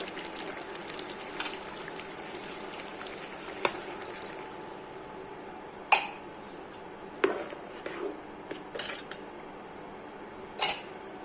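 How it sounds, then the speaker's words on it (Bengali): Broth poured into a pan of boiled bottle gourd for a hilsa fish curry, a low bubbling wash broken by several sharp metallic clinks of a utensil against the pan, close and fairly quiet, no voices. "জালের কুমড়াটা সিদ্ধ হয়ে গেছে, এখন দিয়ে দিচ্ছি ঝোল।"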